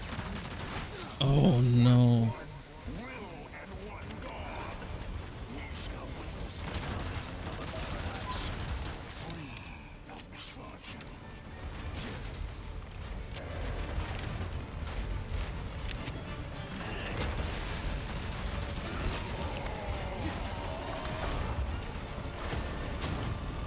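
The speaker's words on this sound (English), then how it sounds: "Oh, we got some machine gun." Machine gun fire in the Resident Evil 4 Remake final chapter: sustained rattling gunfire and crashing action sounds run throughout at moderate level, with someone speaking briefly over it early on.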